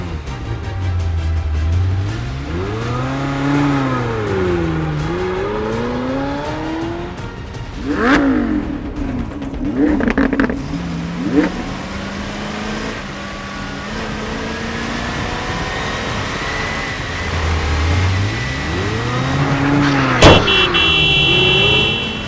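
A car engine revving in a Roblox game, a steady drone whose pitch rises and falls in repeated swoops, close and loud, with a few harsher bursts along the way and no talk.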